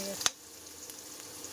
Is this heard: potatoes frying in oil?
yes